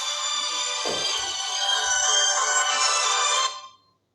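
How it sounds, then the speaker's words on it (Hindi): A telephone ringtone plays loudly and continuously for several seconds, then cuts off abruptly. "सॉरी टेलीफोन आ गया था"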